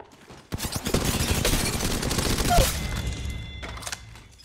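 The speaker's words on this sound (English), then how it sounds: "Oh, this gun is just a shredder, man." Rapid bursts of automatic gunfire from a gun in Apex Legends Mobile, loud and dense for several seconds, with thuds and a few sharp impact sounds mixed in.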